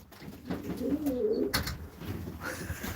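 Pigeons in a loft give low, rolling coos, fairly close and steady, with light rustling and a few sharper background sounds mixed in.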